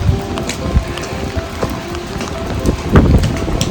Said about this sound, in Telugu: వర్షం పడుతున్నా కూడా ఈ లైటింగ్స్ మళ్ళీ ఒక 2 days అయితే తీసేస్తారు